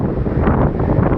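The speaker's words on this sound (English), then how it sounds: "Here's a real bad gust, really bad." Hurricane-force wind gusts roar loudly against the microphone in a backyard, a dense, buffeting rush that swells and surges without a break, with no voices heard.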